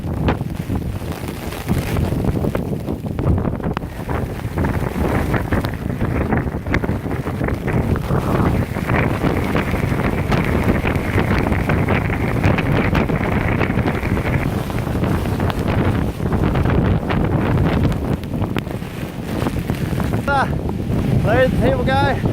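Hurricane Nate's winds gusting down a bike trail, a steady, loud roar with heavy wind buffeting on the microphone that continues unbroken for the whole stretch.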